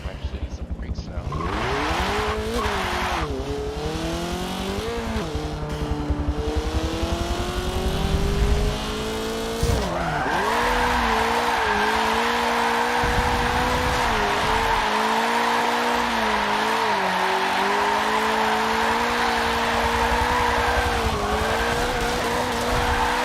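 Video game car drifting, with long sliding tire squeals over a revving engine whose pitch climbs and falls, loud and continuous throughout with a brief break near the middle; people talk at times underneath.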